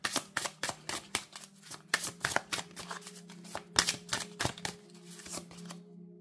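Tarot cards are shuffled close by in a quick run of crisp riffling flicks and slaps, steady and unaccompanied for several seconds before stopping abruptly.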